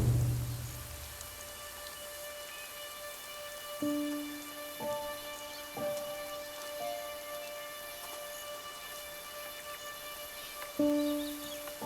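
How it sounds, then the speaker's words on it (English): Steady rain falls in a wombat's habitat as a faint, even patter, with soft low musical tones rising and falling over it. "they shelter from the rain together"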